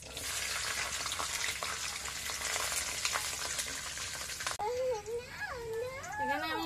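Nigella seeds and green chillies fry in hot oil with a dense, steady sizzle close by; near the end a voice rises over the continuing crackle.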